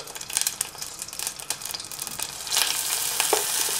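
Plain flour fries in melted butter in a pan, giving a close, steady sizzle with stirring scrapes that thickens and grows a little louder toward the end, with no talking over it.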